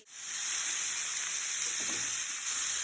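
Cauliflower and capsicum hit a hot pan and sizzle, a sudden onset into a loud, steady hiss with faint stirring beneath it.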